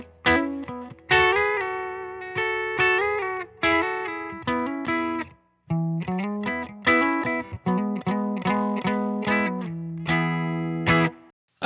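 An S-style electric guitar played through a Silktone Fuzz pedal into a Benson Amps Monarch Reverb amp gives thick, distorted chords and single notes in short choppy bursts, each ringing briefly before cutting off, alone and up close.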